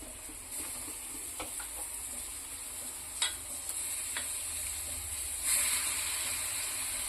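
Fish pieces fry with chili powder in a pan, giving a steady, loud sizzle with a few brief scraping stirs and no talking.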